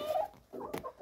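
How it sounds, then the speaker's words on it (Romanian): A rooster and chickens cluck in short, choppy bursts nearby in the morning, a brief flurry of farmyard fowl calls with no talking. "V-am zis că e dimineață, de asta cântă cocoșul într-una"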